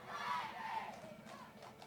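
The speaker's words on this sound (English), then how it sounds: "they're going to stop and do a cheer for us" A crowd of cheerleaders chants and shouts a cheer during a street parade, a steady wash of many young voices heard from a moderate distance for the full stretch.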